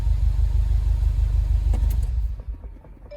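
A Subaru WRX STI engine idles with a deep, steady rumble nearby, then is switched off, the drone dying away with a few clicks into near quiet.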